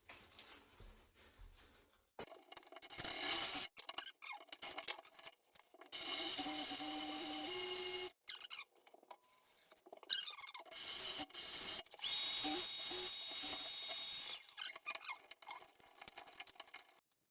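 A power drill with a 1/4 inch bit whirs in several bursts into a wall stud in a shower, pitch climbing as it bites in, separated by pauses and faint handling noises.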